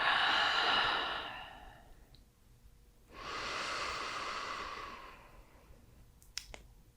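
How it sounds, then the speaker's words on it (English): A full deep breath in and out during a morning stretch in bed, one long airy inhale followed after a pause by a long exhale, close and alone, with a couple of faint clicks at the end. "Taking a full deep breath in and a full deep breath out."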